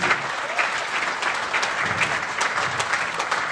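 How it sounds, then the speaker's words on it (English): Steady audience applause rises on a podcast recording with boxer Frank Bruno, a fairly close, even wash of clapping that runs throughout. "Yeah, round of applause."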